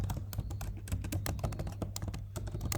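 Rapid, uneven keystrokes on a computer keyboard, close and quiet, clicks tumbling in quick bursts with a low steady hum beneath and no speech.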